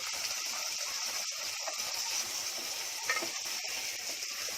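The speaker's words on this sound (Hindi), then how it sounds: "अभी झींगे डाल रही हूँ प्याज के साथ थोड़ी भूनने" Prawns and potatoes fry with onion in a pan over a high flame. A moderate, even sizzle runs throughout with a few soft stirring scrapes. No voices.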